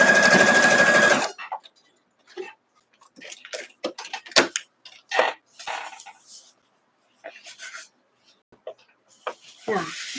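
A home sewing machine runs in a steady burst as it stitches a scrappy Double Square quilt block, then falls silent, followed by a string of light clicks, taps and handling noises.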